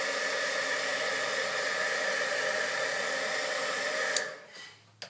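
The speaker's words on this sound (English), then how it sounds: "I'm going to hit it with my heat gun just real quick." A heat gun blows drying air over paint on a stencil: a steady, loud broadband hiss that holds evenly for about four seconds, then cuts off and fades to quiet with a couple of small clicks.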